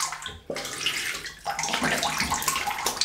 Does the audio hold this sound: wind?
no